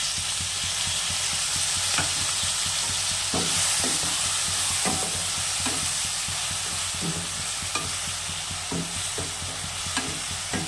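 Green chilli poppy seed paste is stirred into beans and potatoes frying in a pan, with a steady close sizzle and regular scraping strokes of the spoon against the pan, and no voices.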